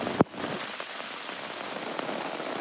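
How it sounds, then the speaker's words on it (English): Steady rain falling on a garage roof and gutters fitted with a gutter guard during a rainstorm, a dense continuous patter close by, with one sharp knock near the start and a few faint drips. "The rain continues to come down at a good pace."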